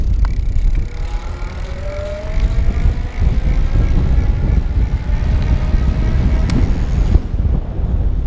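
Hub motor on an Electric Bike Outfitters 36V Burly kit e-bike running on throttle, with a thin, rising electric whine over steady rumbling road and wind noise.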